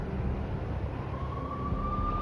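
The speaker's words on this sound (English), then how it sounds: "I could hear the sirens. Their wail was a crescendo." A steady low rumble with a faint, thin siren tone of NYPD police cars rising and holding in the distance, in the PC game Max Payne.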